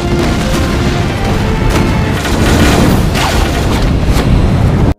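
A bomb explodes in a battle scene with fire arrows, a loud, sustained boom and rumbling roar filling the whole stretch before cutting off abruptly at the end.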